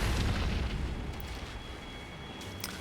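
Ghost flame explosions burst in the Elden Ring video game. One heavy, rumbling boom hits at the start and fades into a long low roar, with a few faint crackles near the end.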